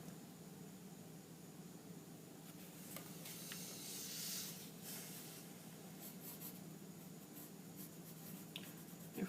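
A pen scratches and rubs across paper drawing a figure's leg with line strokes, a faint, close, continuous scratching with slightly louder stroke bursts in a quiet room.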